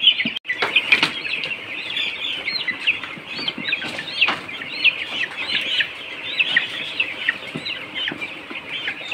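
A flock of chickens on a poultry farm during vaccination, many birds clucking and chirping at once in a dense, continuous chorus with occasional sharp knocks and handling noises nearby.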